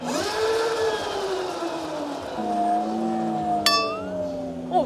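A Daelim Citi electric motorcycle with a Hyundai-affiliate drive motor gives off an eerie synthetic tone that glides and wavers like a ghostly hum, with a short bright clink near the end, heard up close.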